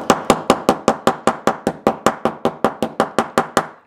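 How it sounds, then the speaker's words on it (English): A hammer strikes metal eyelets on a small pocket page album cover in a steady, even rhythm, flattening them, about twenty sharp close taps in a row with no voices. "Sometimes I just take a hammer to them"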